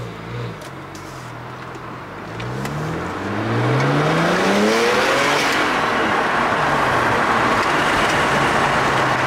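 BMW 335xi with MHD Stage 1 tune pulling out and accelerating, engine note climbing steadily through the revs and building to a loud sustained roar, close and with no speech.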